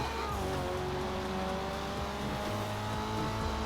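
A Euros X32 car engine in GTA 5 revs hard and steadily at high pitch, a continuous strained whine with shifting tones, loud and close throughout with no pauses.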